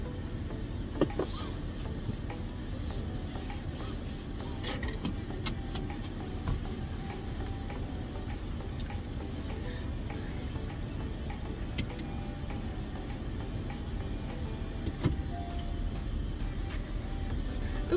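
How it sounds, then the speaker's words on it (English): Car cruising steadily on a short local drive to an ice cream shop in Fort Lauderdale, with continuous low road and engine rumble, faint cabin rattles and occasional clicks, no talking. "So I'm just driving to the ice cream place."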